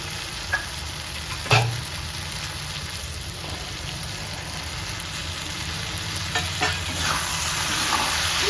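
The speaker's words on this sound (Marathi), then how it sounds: "मंडळी आता टोमॅटो टाकायचे आणि कांदा परतून घ्यायचं" Onion and tomato masala sautéing in oil, a continuous close sizzle with a sharp stirring knock near the start and later scrapes and taps, no talking.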